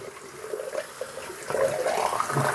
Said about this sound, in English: Refresh this water with some warmer stuff.